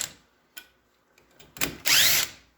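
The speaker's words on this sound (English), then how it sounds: "I just switch over to my little impact driver" Small impact driver removing front wheel bearing bolts on a Polaris RZR, a couple of short bursts followed by a loud rattling hammering run of about half a second, close up in a quiet garage.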